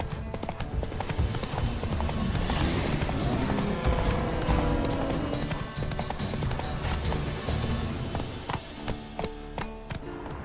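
Horse hooves clip-clop at a brisk, regular pace in the video game Witcher 3, close and prominent, with a short whinny early on and the hoofbeats thinning out toward the end.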